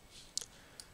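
Computer mouse clicks on an Apple computer, a few faint, sharp ticks spaced irregularly in a quiet room, with no talking.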